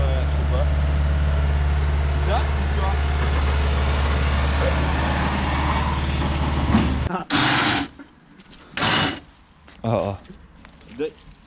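A car engine runs steadily for about seven seconds and then cuts out. Three short, loud bursts follow, each a starter motor cranking; the starter may have shifted out of line with the gearbox.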